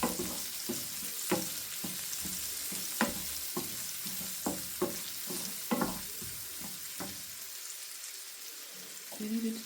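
Bacon goes into a risotto pan of bacon and mushrooms, cooking with a quiet, low sizzle under repeated sharp taps and clinks of a spoon stirring, and faint kitchen sounds in the background.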